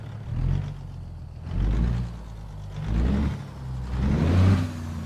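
A Caterpillar C15 engine in a Peterbilt show truck in American Truck Simulator, revved hard four times in a row: deep, loud rising roars with short idling dips between them, and no talking.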